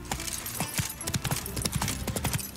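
Horse hooves clip-clop at a quick, steady trot in The Witcher 3, close and distinct over a busy ambient background.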